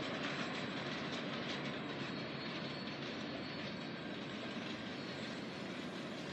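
Early-morning CN log freight train led by locomotive 2226 rolling past nearby, a steady loud broadband rumble of wheels and engines that holds constant throughout with no voices.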